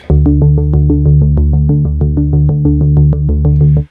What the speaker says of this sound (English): if you play the bass line with the hold pedal, it sounds like this